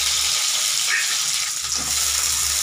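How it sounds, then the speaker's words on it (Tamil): Oil with garlic, ginger and onion frying in a pan for mutton kuzhambu, a steady bright sizzle with a low hum beneath, close and continuous, no talking. "எண்ணெய் ஊற்றுனதும் பூண்டு இஞ்சி வெங்காயம் எல்லாம் வணக்கிறோம்."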